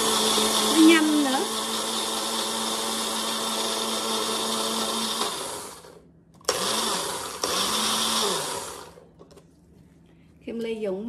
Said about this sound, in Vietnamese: thích cái máy này lắm, cái Magic Bullet á, xài nó gọn lắm các bạn